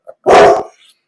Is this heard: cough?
no